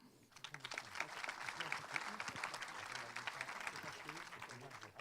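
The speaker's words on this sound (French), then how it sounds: "on peut les applaudir" Audience applause at the opening ceremony of a film festival in Saint-Jean-de-Luz, a dense patter of clapping that runs steadily for several seconds at moderate distance, with a voice speaking over it.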